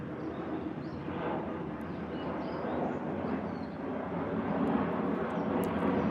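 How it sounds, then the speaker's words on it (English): An airplane passes overhead as flights come in, producing a steady, broad engine roar that holds and swells slightly throughout, with faint high chirps above it and no talking. "Another airplane."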